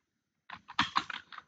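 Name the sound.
typing on a computer keyboard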